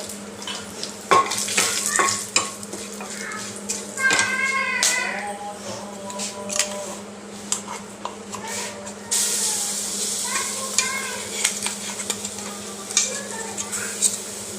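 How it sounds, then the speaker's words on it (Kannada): Tempering spices pop and sizzle in hot coconut oil for a chutney, with a spoon scraping and clinking against the pan, and a louder crackling hiss picking up partway through. "ಹಾಗಾಗಿ ನಾನೊಂದು ಒಗ್ಗರಣೆ ಕೊಟ್ಕೊತಾ ಇದ್ದೀನಿ ಈ ಚಟ್ನಿಗೆ"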